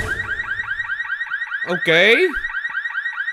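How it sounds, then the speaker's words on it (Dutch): A car alarm in the video game Minecraft wails in a rapid repeating warble, loud and close throughout, while a person speaks briefly over it. "Hallo, dat alarm mag ook wel uit."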